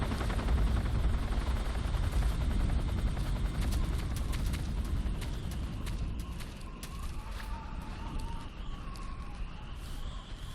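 A helicopter in Metal Gear Solid 3 drones loud and continuous, its rotor roar steady with a slight fade, while sharp game clicks and tones sound over it.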